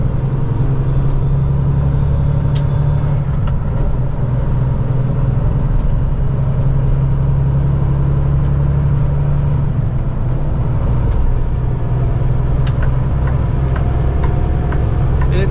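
Heavy truck engine lugging at low RPM with early upshifts on an oversize-load route near the Port of Baltimore, a steady loud diesel drone with strong low rumble and occasional ticks, no talk.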